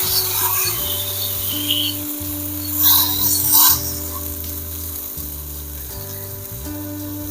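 Raganti fish coated in masala sizzles steadily in a pan, a continuous hissing fry broken by a few louder crackling bursts, with no talking.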